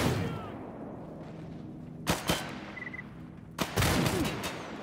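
Shotgun blasts in the video game Stalker GAMMA: two sharp, loud reports close together, then another pair a moment later, over a steady low ambient rumble.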